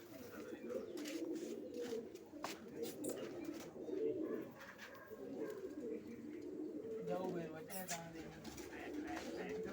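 Pigeons coo in a low, steady murmur, with faint voices and scattered clicks in the background.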